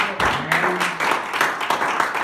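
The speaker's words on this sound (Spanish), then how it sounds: "Dar un aplauso al Señor si te atreves en el nombre de Jesús." A church congregation claps together during a Spanish-language Sunday sermon, a steady wash of many hands with a faint voice briefly underneath.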